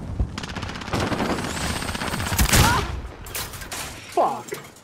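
Rapid automatic gunfire in a multiplayer shooter video game, a dense burst of shots for about two seconds followed by scattered single cracks and a brief whoosh, with a player's voice mixed in.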